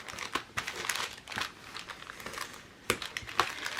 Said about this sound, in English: just kind of close this up and use your bone folder to get those edges nice and crisp